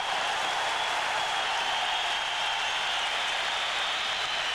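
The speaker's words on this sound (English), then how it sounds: "this crowd is applauding the penalty killing of the New York Rangers" Hockey arena crowd at a 1995 New York Rangers versus Quebec Nordiques playoff game, steady broad applause and cheering filling the space continuously at moderate, distant-sounding volume, with no talking.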